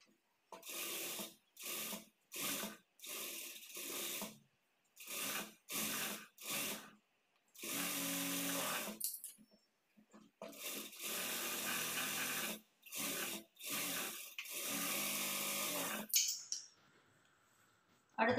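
A sewing machine stitches a blouse sleeve in repeated close bursts of rapid mechanical whirring, each running a second or two with short pauses between.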